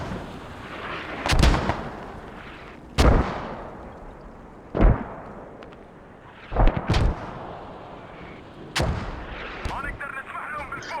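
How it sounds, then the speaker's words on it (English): Mortar rounds in the video game Squad boom out one after another, about six heavy thuds spaced a second or two apart, over a low battlefield rumble. "I'm good with those mortars."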